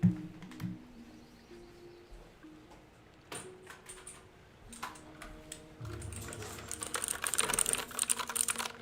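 Rapid typing on a loud keyboard, close by, starting as scattered clacks and building into a dense, fast, steady run of keystrokes with no one talking.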